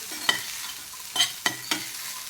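Rice tossed with masala in a hot pan gives a soft steady sizzle and four sharp scraping clanks of the spatula, heard close with no voices.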